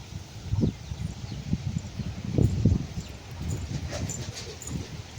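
Strong wind gusting through trees, with coconut palms swaying near a house, comes as a dense low rushing roar that swells in several loud surges, mixed with rustling and clattering debris.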